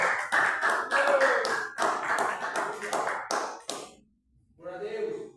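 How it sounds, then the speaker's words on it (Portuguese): Church congregation clapping in unison, loud rhythmic claps for several seconds that stop abruptly, then a brief voice. "as palmas para Jesus"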